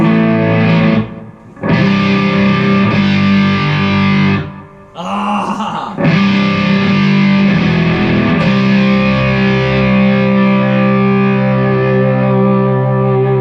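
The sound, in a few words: electric guitar through distorted amp channel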